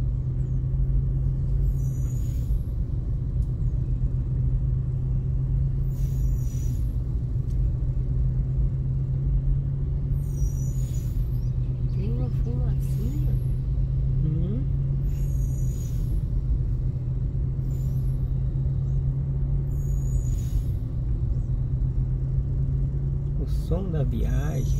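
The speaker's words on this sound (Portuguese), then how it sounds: "dos freios da carreta descendo." A bitrem truck descends a mountain road in Minas Gerais, with a loud continuous engine and brake rumble plus repeated hissing brake bursts, while people talk intermittently over it.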